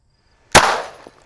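A single sharp .45 caliber pistol shot striking LED lightbulbs, one loud close crack after a moment of silence, followed by a brief decaying ring and a small faint knock.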